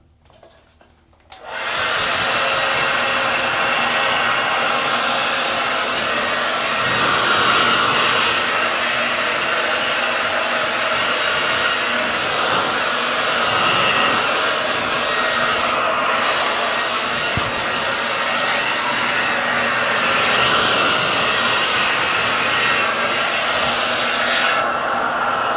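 A hair dryer blows steadily on a flipover quick weave install, starting after a brief quiet moment and then running loud and close, without a break, for over twenty seconds.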